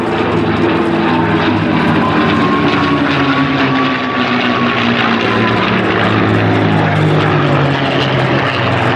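A propeller warbird flies past at the Duxford Flying Legends air show, a loud continuous engine drone with a slowly shifting pitch that fills the whole stretch without pause.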